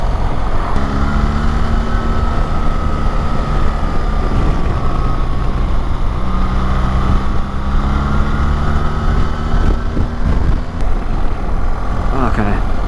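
A BMW R1300GS motorcycle is ridden on the road, its engine droning loudly with rising and falling pitch as it shifts through the gears. Wind rushes throughout, and a voice talks over the ride.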